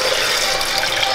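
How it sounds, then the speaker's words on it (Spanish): Water poured from a cup into a blender jar to make coconut oil, a steady continuous splashing gush filling the whole moment at close range, with no talking over it. "Voy a echarle 4 tazas de agua."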